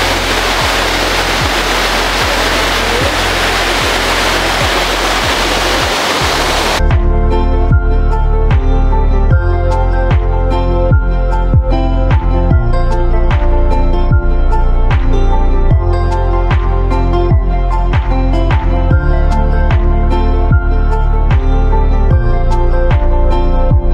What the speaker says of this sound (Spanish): Aprecien esta belleza, qué hermosas cascadas.